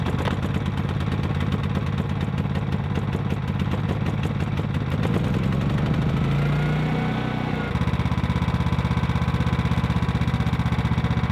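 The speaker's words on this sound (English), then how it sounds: "We have up on the hill the generator, so that's what I'm gonna go start now." A steady generator engine drones throughout at an off-grid cabin in the woods, with a change in pitch and rumble midway as it settles into a constant mechanical hum.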